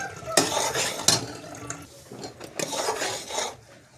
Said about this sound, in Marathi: आपला हा गूळ आता चांगला वितळतो आहे अजून पातळ आहे त्याला चांगला थोडासा शिजवायचा